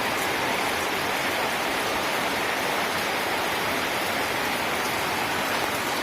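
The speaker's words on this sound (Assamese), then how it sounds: "এয়া বৰষুণ দিলে 8:30 বজাত।" Steady, dense rain pours down without a break, a loud and even hiss filling the whole stretch with no voices.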